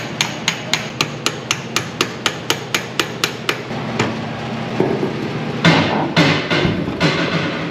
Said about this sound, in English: I'm gonna have to try hitting that from the other side with like a drift pin, try and push it back through